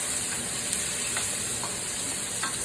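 Onions frying in a pan at home, a dense steady sizzle close by with faint stirring scrapes, no voices over it.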